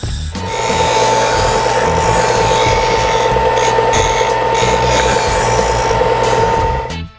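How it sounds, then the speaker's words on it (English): Jigsaw cutting a curved line across the grain of a wooden crosscut sled fence, a loud, steady buzzing that runs continuously for about six seconds and then stops, with no talking. "cut this out with the jigsaw"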